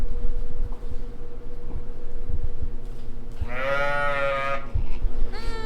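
A sheep bleats once, loud and wavering, in a pen with newborn lambs, over a constant low hum with faint knocks and a brief second call at the end.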